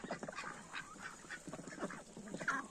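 Crested ducks in a farmyard quack and call repeatedly in short, close bursts, fairly quiet overall, with no talking.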